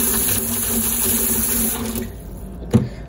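A kitchen tap runs steadily while pasta is being cooked, a close hissing stream of water that stops partway, followed by a single clunk.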